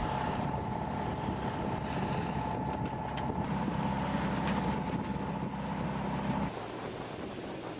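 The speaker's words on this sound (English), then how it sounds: "The fast ferry weaves its way between the ships towards the wealthy island of Singapore." A fast ferry moving among ships in a busy shipping lane near Singapore: a continuous engine drone with rushing water and wind buffeting, loud and steady, easing off near the end.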